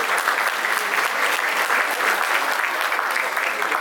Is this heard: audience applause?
yes